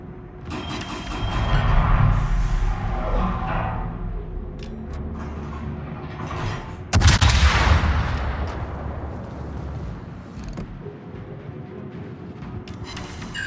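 Naval guns fire high-explosive shells at the Ipiranga in World of Warships, with two heavy, booming salvos several seconds apart, each a loud blast that rolls into a long rumbling decay amid steady engine noise.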